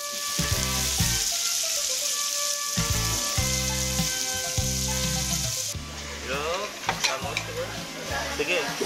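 Meat, seafood and vegetables, including razor clam, sizzle loudly in a hot pan, a steady bright frying hiss under music, with stirring clatter toward the end.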